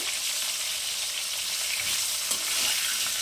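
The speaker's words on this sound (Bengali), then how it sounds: "ফুলকপিটাকে একটু কড়া ভাজতে হবে" Cauliflower pieces frying hard in a pan for khichuri, a dense, continuous hiss of sizzling oil heard up close and evenly loud with no talk.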